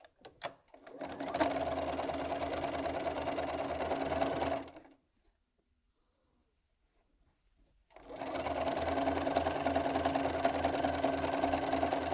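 A sewing machine stitches fabric pieces together for a cushion made from mini charm squares, running in two steady bursts of a few seconds each, separated by a short silent pause.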